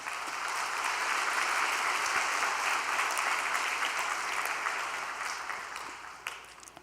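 A congregation at a church spiritual-training gathering applauds in a dense, steady wash of many hands that holds for several seconds, then thins and fades out, with no talk over it.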